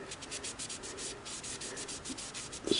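A sewing machine part from a Singer Model 353 Genie is scrubbed with an old kitchen sponge and cleaner, giving a close, steady, rhythmic rubbing of quick back-and-forth strokes with a brief louder scrape near the end.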